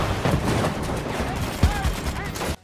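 Movie gunfire plays on a B&W home theater system in a rapid, loud, continuous fusillade of shots and bursts, with a voice faintly mixed in, ending abruptly.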